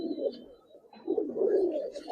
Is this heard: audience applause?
no